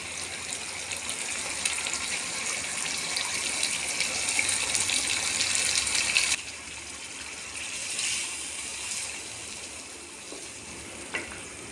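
Yogurt going into a mutton handi cooking with green fenugreek, giving a steady wet sizzle and bubbling hiss that drops a little quieter partway through, with a small clink near the end; no talking.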